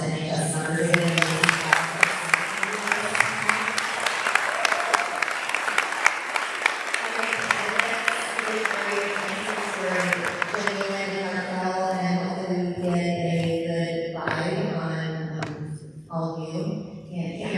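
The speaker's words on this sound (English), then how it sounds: "let's give a round of applause to the NHS members" A school board candidate forum audience applauds members of the National Honor Society, steady clapping filling the room with cheers and crowd voices layered over it, tapering near the end.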